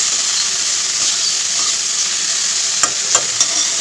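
Okra fries in a pan with a continuous loud, hissing sizzle close by, and a few brief clinks of stirring near the end; nobody speaks.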